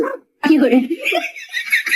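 A cartoon mobile phone ringtone that imitates a puppy, giving loud, close, high-pitched yips and whimpering barks in quick succession after a brief pause.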